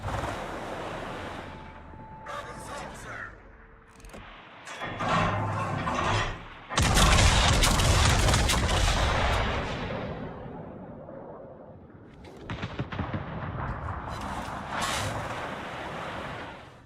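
Warship guns firing high-explosive shells in World of Warships, heard as deep booming blasts and rolling rumbles over ocean wind and surf, swelling and fading at moderate distance without talk.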